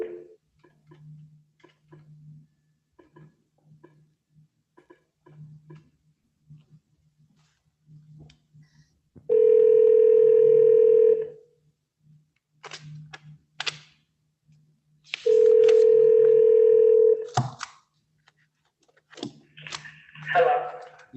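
A telephone line sounds over a courtroom speakerphone: two long, steady electronic tones a few seconds apart, with faint soft ticks and clicks before and between them.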